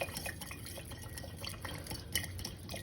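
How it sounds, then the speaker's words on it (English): A chopstick stirs a crystal-growing solution in a glass container, soft irregular clinks and watery swirling at low level, with no talking. "So we want to stir and stir and stir until we see no more grain."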